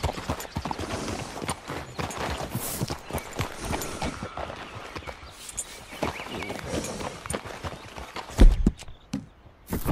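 Hoofbeats from a dark bay Andalusian horse in Red Dead pound along busily and closely, mixed with rustling movement and ambient game noise, ending in a brief loud thump.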